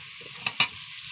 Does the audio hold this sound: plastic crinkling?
no